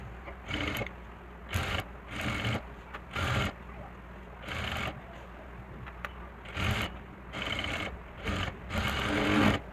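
A sewing machine stitching salwar fabric over foam, close whirring bursts of rapid needle chatter separated by short pauses, each run lasting under a second, with no talking.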